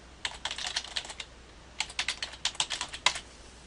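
Rapid bursts of keystrokes on a computer keyboard as a web address is typed, two clusters of quick close clicks separated by a short pause, with no voices.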